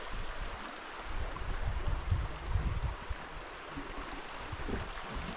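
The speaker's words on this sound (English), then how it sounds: "You can hear the water in the background, I think. We have a little creek right here." A small mountain creek at Chiricahua National Monument gives off a faint, continuous rushing murmur, mixed with light wind and no speech.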